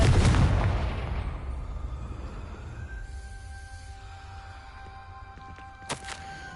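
A Confringo spell explosion in Hogwarts Legacy: one loud, booming blast that decays into a long hissing, rumbling tail, followed by a faint high ringing tone and a sharp click near the end.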